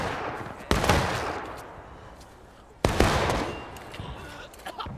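Two sharp, loud musket volleys crack out in the Civil War video game War of Rights, each burst followed by a ragged, fading rattle of scattered shots and a few distant pops, with shouting voices mixed underneath.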